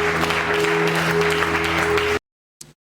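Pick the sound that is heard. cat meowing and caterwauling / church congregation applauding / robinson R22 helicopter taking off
church congregation applauding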